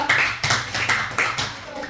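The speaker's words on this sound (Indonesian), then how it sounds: "tepuk tangan untuk Angel" Classroom applause for a student, a short burst of several hands clapping in uneven rhythm at close range, fading after about two seconds.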